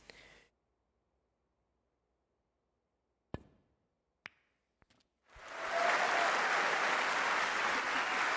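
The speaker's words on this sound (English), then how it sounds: "That applause signals I've won the frame, the match, and the tournament." Applause in the Snooker 19 video game after winning the Paul Hunter Classic final: a few sharp knocks in near silence, then a sustained, loud wave of crowd clapping that swells in and holds to the end.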